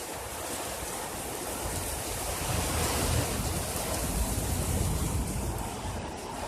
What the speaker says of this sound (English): We're getting hail!